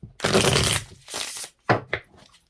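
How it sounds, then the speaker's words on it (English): A deck of tarot cards being shuffled in a few quick bursts, a longer riffle followed by shorter flicks and snaps, close and crisp with no talking over it. "Let's use this one to clarify love. I'm going to give it another shuffle."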